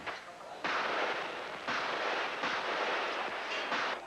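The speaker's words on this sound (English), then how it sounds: "The rebel armored personnel carriers firing on pro-Marcos snipers in a nearby TV" Rebel armored personnel carriers fire on snipers at a TV tower during street fighting, a sustained roar of heavy gunfire in long bursts that repeats several times, fairly distant and without talk.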